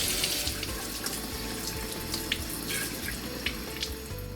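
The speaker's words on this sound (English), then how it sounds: "run under running water to flush out any small particles" Steady running tap water splashing continuously over a Miele dishwasher spray arm onto a hard surface, close and full, with no voices.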